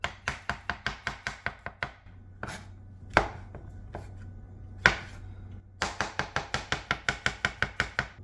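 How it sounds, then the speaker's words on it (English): Quick, regular knife chops on a cutting board as mushrooms are halved, coming in fast bursts of a dozen or so strokes. A slower stretch in the middle has a few heavier thuds. "Cut it in half, depending how big it is."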